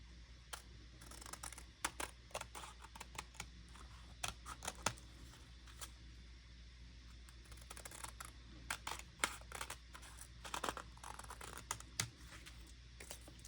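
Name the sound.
scissors cutting tulle and paper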